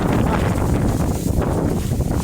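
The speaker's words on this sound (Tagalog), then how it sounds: "ayan ang lakas talaga ng hangin ngayon" Strong wind from Typhoon Kristine blows across an open rice paddy, a loud, continuous, low roaring buffet against the microphone that never lets up.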